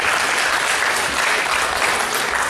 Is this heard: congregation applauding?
yes